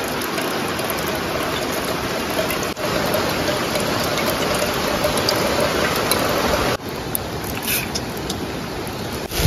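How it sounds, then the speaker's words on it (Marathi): Heavy rain pours down outdoors in a steady, dense wash of noise that stays loud and even throughout, with no voices. "पाऊस बघ कसा पडतोय"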